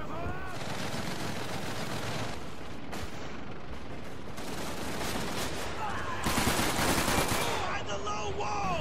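Dense gunfire from Call of Duty 3, with rapid machine-gun bursts and booming shots that keep overlapping throughout, loud and continuous, and a burst of extra intensity late on; no one speaks over it.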